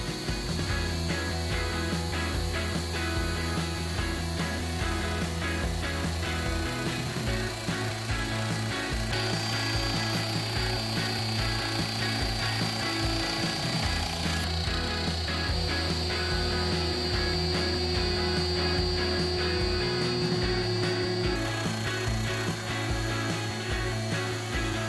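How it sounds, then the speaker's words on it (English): A CNC machine levelling an epoxy resin tray with a bowl and tray bit: a continuous loud whining router drone with repeating cutting passes and shifting pitch. "I settled on using my CNC machine to level it"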